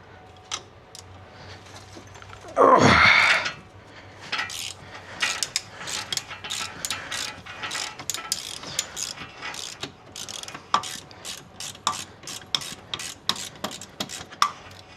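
Close-up ratchet work on the dual clutch of a 2012 Ford Focus: a loud rushing burst early on, then many quick metallic clicks and clacks in irregular runs, with no talking.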